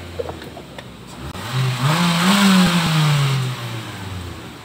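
An All New Livina or Xpander engine being revved after the throttle is freed: a low idle rises into a sustained, loud rev that holds high for a second or two, then drops back down, with no talk over it.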